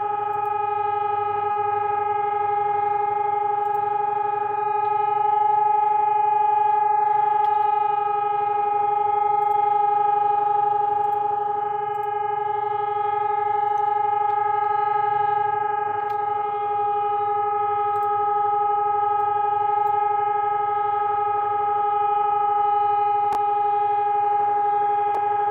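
A civil defense siren wails in one long, sustained, loud tone with strong harmonics, holding nearly steady for the whole stretch with only slight swells in volume and no voices.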